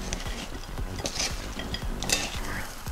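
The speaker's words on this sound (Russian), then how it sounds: "И перемешиваем салат." Continuous soft clinking and scraping of utensils against a bowl as a broccoli salad dressed with lemon juice, olive oil and salt is tossed and mixed, steady and close, with no talking.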